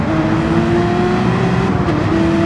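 Race car engine in a night racing video game, a loud, steady high-revving drone with a slight pitch drop as it downshifts, continuous throughout.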